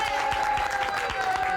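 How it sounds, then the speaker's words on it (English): Studio audience at a 1984 wrestling talk show claps for Tony Atlas, producing a brief, continuous burst of applause with a steady tone running through it. "by way of applause"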